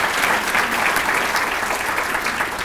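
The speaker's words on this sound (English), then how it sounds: "can we give our panelists a little round of applause for their time today?" Sustained, loud applause from an audience thanking the panelists at an ethics and economics program, a dense, even wash of clapping that fills the whole stretch without voices.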